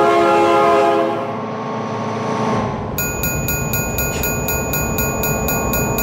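Train horn blaring in BeamNG.drive as a train passes, a loud sustained chord that fades into rumbling wheels and a rapid repeating bell-like clatter.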